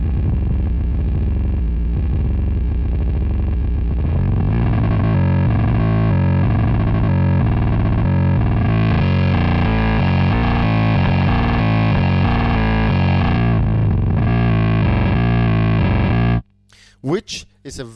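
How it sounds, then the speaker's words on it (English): A Moog Grandmother synthesizer played through two effects pedals gives a loud, sustained distorted tone with a chorus-like shimmer and shifting pitches, cutting off abruptly near the end. "If I just had the Moog again going through these two pedals"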